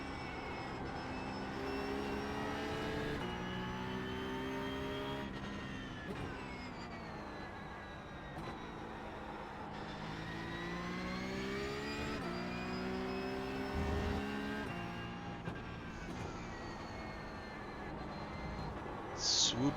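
A Porsche 911 Cup (992.2) racing car at Hockenheim in a racing game, its engine whining steadily as it accelerates up through the gears, pitch rising and dropping at each shift, with a sustained, fairly quiet tone and no voices.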